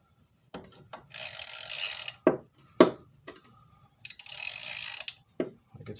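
A socket wrench with a deep well socket ratcheting on a bolt during clutch and throw-out bearing work on a Jeep 4.0 engine, with close, crisp clicking bursts and a few sharp metallic knocks in an irregular rhythm.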